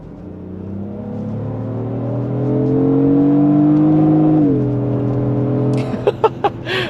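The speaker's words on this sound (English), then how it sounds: "I'm curious if we can downshift this thing in Sport Plus." A Lexus GX 550 SUV in Sport Plus mode gives a steady engine drone that climbs in pitch and loudness, drops sharply as it downshifts, then settles, heard from inside the cabin, followed by a few sharp clicks.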